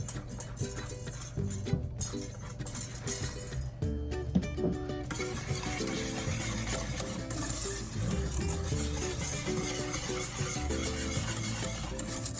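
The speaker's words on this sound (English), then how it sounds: "And now I'm gonna add the cocoa powder. I am gonna switch to a whisk here." A whisk stirs a cocoa powder mixture in a pot, giving a continuous scraping, rasping swish with faint metallic clinks, close and steady throughout with no talking.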